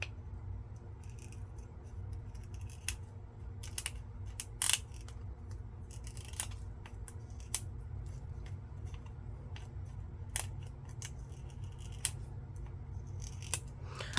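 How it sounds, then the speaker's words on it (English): Scissors snip repeatedly through stamp material being trimmed smaller for a Gelli plate, giving crisp, close, irregular cuts over a low steady hum, with no talking. "I'm going to cut them even smaller yet."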